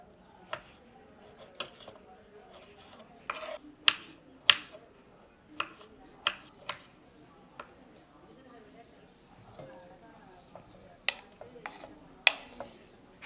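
A knife slices a lemon into small pieces on a board for a traditional Tamil mixed-vegetable pickle, giving a run of sharp, close chopping taps spaced irregularly across the stretch, over a soft, quiet background.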